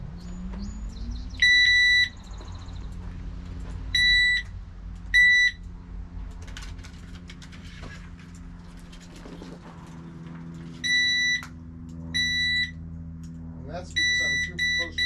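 A metal detector beeping near a Woodland Mills sawmill blade in short, high, repeated tone bursts, some single and some in quick pairs or triples, over a low steady hum.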